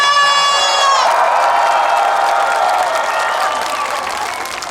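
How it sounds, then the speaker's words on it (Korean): Audience applause and cheering at an outdoor trot concert during a Chuncheon makguksu and dakgalbi festival, a loud sustained crowd roar of clapping and shouts that gradually tapers off near the end. "다 같이 박수와 함성!"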